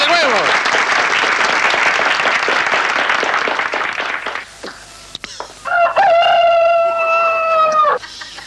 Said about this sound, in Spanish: ¡Un aplauso para el comedor de huevos!